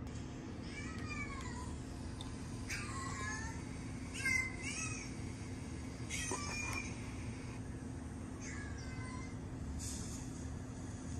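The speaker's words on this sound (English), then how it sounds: "we want to see her reaction to a cat." A recorded cat meowing, played back for a dog, gives several rising and falling meows spread across the clip over a steady low hum, moderately close.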